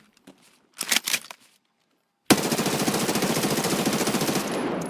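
An unsuppressed assault rifle in Escape From Tarkov fires a long, rapid, sharp and loud full-auto burst, preceded by a few quieter mechanical clicks and a brief pause.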